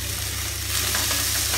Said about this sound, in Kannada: ಈರುಳ್ಳಿನ ಸ್ವಲ್ಪ ಹುರಿರಿ.